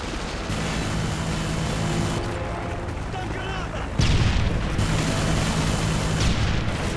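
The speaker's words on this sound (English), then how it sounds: "friendly predator missile inbound" Predator missile strikes in a Call of Duty match, with a dense steady rumble of game combat. A heavy, louder explosive boom lands near the midpoint and the sustained roar continues after it, with no voices in the clip.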